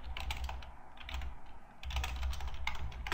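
Quick keystrokes patter on a computer keyboard, close and clear, in two bursts of typing with a short lull between, with no talk over them.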